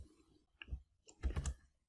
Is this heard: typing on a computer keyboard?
yes